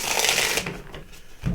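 A deck of cards being riffle-shuffled for a tarot-style reading, a close rapid fluttering burst followed by softer taps and a final thump, no talk.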